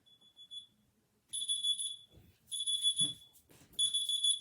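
A kitchen timer beeps in a home sewing session, sounding in repeated bursts of high, piercing electronic tones, with short pauses between groups and no one talking.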